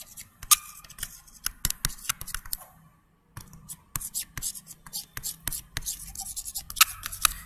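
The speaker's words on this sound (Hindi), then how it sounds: "फ्रैंकोइस ओलांदे, नाम लिख देता हूं मैं यहाँ पे।" Names are written by hand during a lesson: a run of sharp scratchy strokes and taps with irregular pauses, close and fairly quiet, alongside soft voice sounds.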